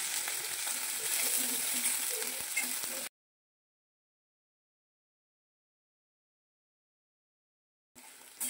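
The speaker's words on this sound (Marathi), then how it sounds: "पनीर सुद्धा आपल्याला तेलामध्ये छान असे फ्राय करून घ्यायचे आहेत" Paneer frying in oil in a steel wok gives a steady, close sizzle for about three seconds, then cuts to silence before a brief burst of sizzling returns at the very end.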